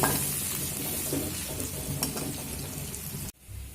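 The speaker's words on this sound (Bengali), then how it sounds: "দেখুন আলু তো ওদিকে ভাজা হচ্ছে" Potatoes fry with turmeric over a medium flame in a pan, giving a steady, dense sizzle close to the microphone that cuts off abruptly near the end.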